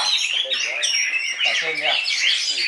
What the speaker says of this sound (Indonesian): burung kacer, selain dilombakan kicauannya